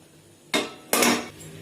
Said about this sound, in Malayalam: ഇനി നമുക്കിതിലേക്ക് കേക്ക് ടിൻ വെച്ച് കൊടുക്കാം.